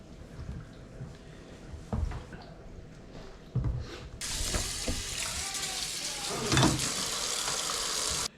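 Squash and pumpkins rinsed under a running tap before baking in a wood stove, a steady broadband splash of water with clunks of the vegetables being handled, fairly close.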